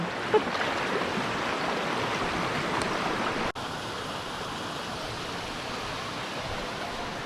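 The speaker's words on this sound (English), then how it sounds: "We've got the river running in the background" Steady rushing river near a hot spring in the Philippines, a broad continuous wash of flowing water filling the whole clip, loud and close, with one brief knock midway and no talking.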